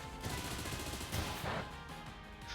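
The Bullet Punch attack plays out in a Pokémon video game battle, a dense burst of rapid metallic impact effects layered over game sound, fairly loud and continuous throughout.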